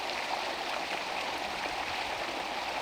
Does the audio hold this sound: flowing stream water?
yes